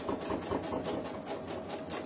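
A sewing machine topstitches fabric for a snood, its motor running continuously with a quick, even chatter of needle strokes, close and steady throughout.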